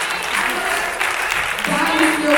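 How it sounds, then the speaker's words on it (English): A congregation claps hands in church during a sermon, a dense, steady patter of applause mixed with voices and shouting throughout. "I dare you to clap your hands and just shout to God"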